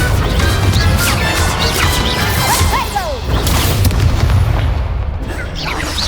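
Spell effects in a Harry Potter video game, including the Incendio fire spell, play as a loud, dense run of crashing booms and whooshes layered with bright zapping sweeps, continuous across the whole stretch.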